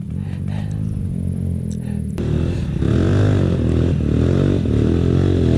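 A dirt bike engine idles loudly up close, its rumble rising and thickening partway through as the throttle opens.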